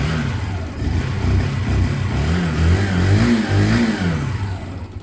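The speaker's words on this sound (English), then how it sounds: "Let me show you that the bike does still run and ride like it should." A Zontes Mantis 125 cruiser motorcycle engine runs close by, its throttle blipped in several rising and falling revs over a steady idle, with no talking.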